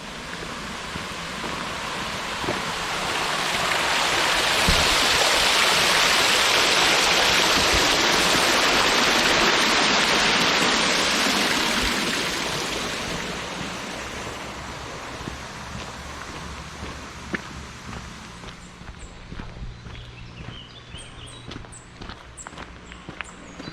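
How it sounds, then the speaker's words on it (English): Water spilling over a canal weir near a lock, a broad steady rushing that swells loud for several seconds as it is passed close by, then fades back behind scattered clicks and knocks. "We have a weir here."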